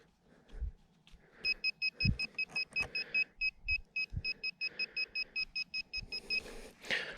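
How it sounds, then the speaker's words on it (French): A metal detector sweeping a field gives a rapid, regular run of bright, close electronic beeps for several seconds, with some dull knocks and handling noise around it. "t'entends le détecteur qui part en live"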